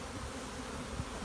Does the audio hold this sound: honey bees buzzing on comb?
yes